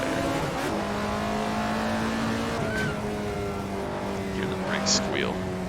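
Tires squeal on an Alfa Romeo 33 Stradale, a roughly 50-year-old car with drum brakes, lapping in the Assetto Corsa racing game, with short high squeals over a steady engine drone and someone talking throughout.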